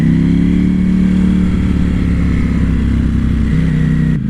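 A Ducati Panigale V4 motorcycle engine pulling in sport mode, a loud steady drone with a slowly shifting pitch, close and continuous with no talk over it.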